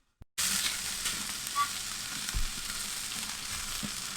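Rainbow trout fries flesh side down on a hot Aldi kamado grill, a loud, steady close sizzle that starts abruptly and holds with faint crackles and no talking.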